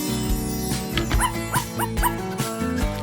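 Cartoon dogs in a LEGO animation give short yips and barks, a quick run of close, bright calls set over loud background music.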